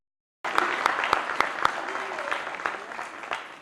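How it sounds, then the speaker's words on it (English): Audience at an awards banquet breaks into applause after a brief silence, with a few sharp individual claps standing out near the start and voices murmuring faintly beneath the steady clapping. "So let's give a round of applause."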